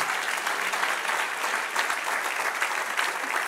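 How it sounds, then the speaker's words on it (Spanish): A church congregation at a Spanish-language sermon applauds, a thick continuous wash of many hands clapping at even strength from start to finish, with no voices standing out. "Denle un aplauso al Señor."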